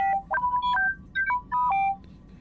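T3-M4, the astromech droid in the Knights of the Old Republic video game, chirps a quick string of electronic beeps and bloops, clear tonal blips in short bursts with brief gaps between them and no voices.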